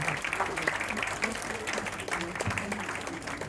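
Audience applause for children at an International Yoga Day event, a crowd clapping in a fairly steady patter while voices talk over it.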